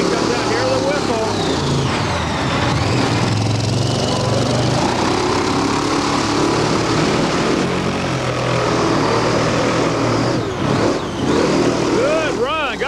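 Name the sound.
monster truck engine revving during a run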